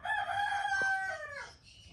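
A rooster on a free-range backyard chicken plot gives a single clear crow, a drawn-out rising-then-falling call heard fairly close and alone, trailing off at the end.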